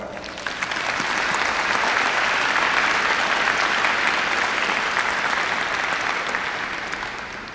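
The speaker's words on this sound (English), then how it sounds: "I'll ask you to give your loved ones and all those who supported you a hand of applause as well" A medical school commencement audience applauds graduates' loved ones. Loud, sustained clapping swells in over the first second, holds steady and full, then eases slightly near the end.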